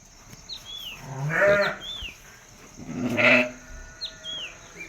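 Two loud, wavering sheep bleats ring out close by, with faint chirps from birds in the background.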